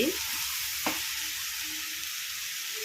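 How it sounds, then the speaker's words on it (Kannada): Raw banana (plantain) frying in a pan, a close, steady sizzle with a brief spoon scrape near the start, no voices. "ಬರೀ ಸಿಂಪಲಾಗಿ ಮಾಡ್ತಾಯಿದ್ದೀನಿ ಬಾಳೆಕಾಯಿ ಫ್ರೈ"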